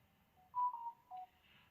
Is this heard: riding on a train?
no